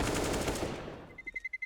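Rapid automatic gunfire in the Counter-Strike game on the Inferno map, a burst of shots that fades out, followed by faint metallic clicks and game sounds, no voices.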